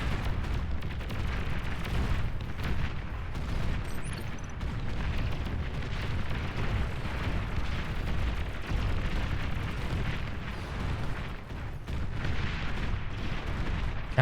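Volleys of unit fire in a Beyond All Reason 1v1 battle on a river map, rolling as dense, continuous booming and artillery-like blasts that overlap without pause at steady loudness.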